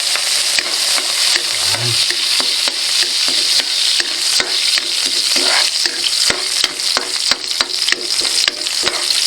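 Garlic sautéing in hot oil in a wok-style pan (kawali) for a home-cooked pork binagoongan, continuous loud sizzling with repeated scraping and clanking strokes of a stirring utensil, with almost no talk.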